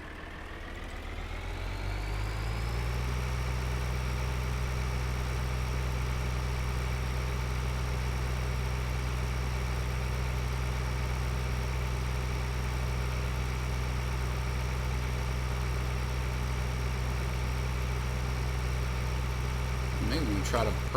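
A combine harvester engine in Farming Simulator 2013 starts up and settles into a steady, loud, droning idle with a constant low hum that holds unchanged for about twenty seconds.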